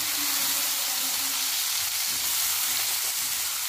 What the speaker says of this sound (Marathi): त्याच्यामध्ये आता टोमॅटो कट केलेला टाकून घेऊया।